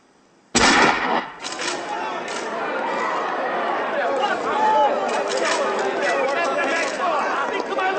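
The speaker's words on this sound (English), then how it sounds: "Mama, who are you shooting at? Who are you firing at?" A sudden loud burst of gunshots in a film scene, followed by a sustained noisy commotion of further shots and voices.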